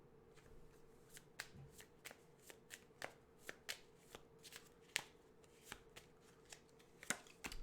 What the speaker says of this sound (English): I need to shuffle this deck.